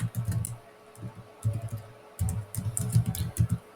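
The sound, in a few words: typing on a computer keyboard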